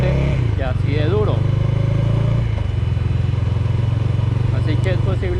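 A 2020 Bajaj Dominar 400 UG 2.0 motorcycle idles with a loud, steady, throbbing engine rumble and a noisy cooling fan, close by, while someone talks over it.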